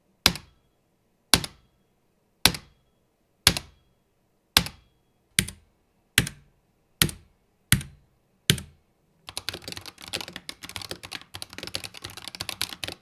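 Keys on a Razer Huntsman TE keyboard are struck one at a time at an even, slow pace, each a loud clunky plastic-and-metal thock, then a fast, dense burst of typing fills the last few seconds.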